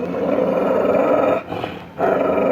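A dog growls in a low, sustained rumble, close and fairly loud, dipping briefly in the middle before resuming; no voices are heard.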